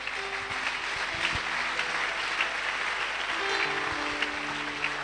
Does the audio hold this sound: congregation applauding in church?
yes